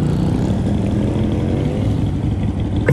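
Engine of a Honda Activa 100 scooter with a 7-horsepower motor at full throttle while riding, a steady close buzzing drone with wind rush that holds level throughout.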